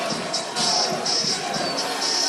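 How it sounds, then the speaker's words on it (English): Large crowd roaring and cheering at Nathan's Hot Dog Eating Contest 2017 as Joey Chestnut nears a record, a continuous loud swell of voices with a commentator talking over it. "Listen to that crowd."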